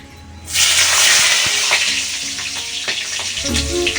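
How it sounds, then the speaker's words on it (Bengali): Green chilies hitting hot oil as a tempering, a sudden loud burst of bright sizzling that holds steady, with light stirring clatter underneath and no talk. "এই যে কাঁচা লঙ্কা ফোড়ন দিয়ে দিই"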